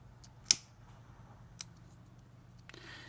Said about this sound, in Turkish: Sonra bunu da çok uzun bırakmamak kaydıyla kesiyorum arkadaşlar